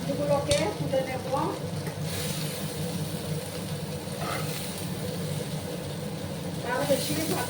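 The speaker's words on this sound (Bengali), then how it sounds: "আর এদিকে আমার ভেন্ডিটাও ভাজা হচ্ছে।" Okra frying in a pan, a steady sizzle with occasional stirring scrapes, heard beneath a person talking.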